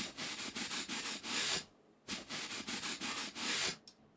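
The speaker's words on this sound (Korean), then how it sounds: "이건 닦는 게 아니라 뭐 사포로 문대는 것 같은데 800방짜리로" Harsh, rhythmic rubbing strokes like sandpaper scraping a surface, repeated quickly in two bursts with a short pause between, as a table is wiped in a horror video game.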